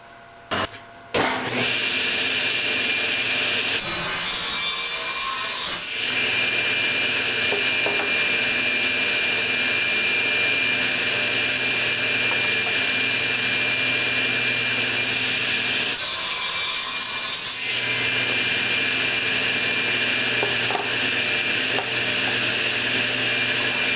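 A power saw cuts salvaged wood for a picture frame, running with a steady loud mechanical whine for long stretches, with brief changes in pitch as the blade passes through the boards.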